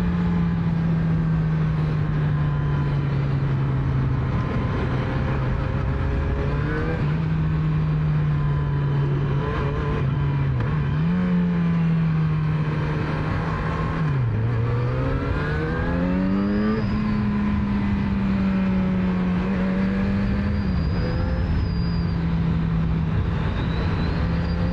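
Engine of a 2011 Yamaha XJ6 motorcycle while riding, a steady low drone with rising and falling pitch as gears change on the move, loud and continuous with no talk.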